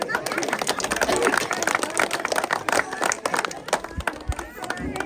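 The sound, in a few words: crowd clapping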